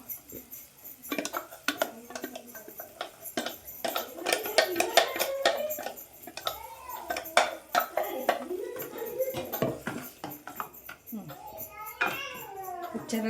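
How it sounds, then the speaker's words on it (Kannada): Tomato puree going into rajma gravy in a pan, with clattering utensil knocks and scrapes against the cookware, heard close under frequent talking and a voice. "ಈಗ ಇದಕ್ಕೆ ಟೊಮೆಟೊ ಪ್ಯೂರಿ ಹಾಕ್ತಿದ್ದೀನಿ ನೋಡಿ."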